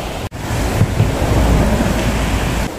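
A stream flows beside a small mountain county town, its continuous rushing wash steady and close, with no voices.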